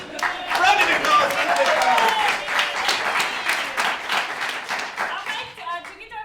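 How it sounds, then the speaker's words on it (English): An improv comedy audience breaks into a full, sustained round of applause and clapping that fades slightly toward the end, with a voice speaking briefly as it tails off. "Round of applause."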